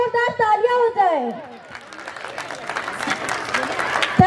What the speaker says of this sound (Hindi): तो मैं चाहूँगी डायरेक्टर सर के लिए जोरदार तालियां हो जाए।